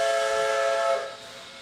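A Crosby 3 steam locomotive whistle from a Train Simulator game gives one sustained, chord-like blast with a breathy hiss, holding steady for about a second before dropping into a quieter, fading tail.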